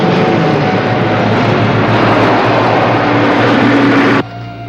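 A steady, loud helicopter rotor-and-engine roar fills the air continuously, then cuts down sharply near the end to a quieter hum.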